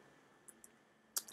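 Mouse clicks in Photoshop editing work: a couple of faint, isolated clicks early on, then a sharper, louder pair of quick clicks near the end over quiet room hiss.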